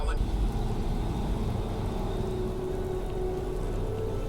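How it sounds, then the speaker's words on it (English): Steady rain falling in the Starfield video game, a dense even hiss with a low rumble underneath, continuous and fairly soft, with faint ambient tones layered over it. "Oh, it's raining."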